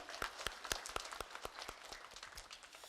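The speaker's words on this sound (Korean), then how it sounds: "우리 영광의 박수 주님께 드리겠습니다." A church congregation claps during a Sunday worship service, giving a short burst of scattered, fairly faint hand claps in an uneven rhythm that thins out toward the end.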